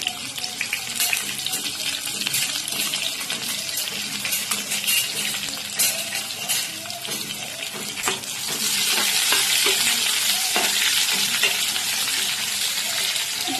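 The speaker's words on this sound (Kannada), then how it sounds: "ಸ್ವಲ್ಪ ಚಿಕ್ಕದಾಗಿ ಇಟ್ಕೊಂಡಿರೋ ಈರುಳ್ಳಿ ಹಾಕ್ತಾ ಇದ್ದೀನಿ" Small-cut chopped onions fry in hot oil in a pan with a steady, dense sizzle that swells louder partway through, with scattered clinks and scrapes of stirring close by.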